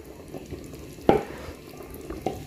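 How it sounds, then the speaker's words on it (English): Chopped spices hit hot boiling oil in a pot of kulekula nuts, giving a sharp splash and sizzle in the middle, with a smaller second drop later over a low bubbling background. "So I'll go ahead and drop in all the spices that I chopped."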